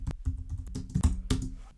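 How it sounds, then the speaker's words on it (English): Quick bursts of key taps on a computer keyboard while entering code in Excel VBA, a handful of close, crisp clicks in an irregular rhythm with no voices. "We can just start typing the initial characters"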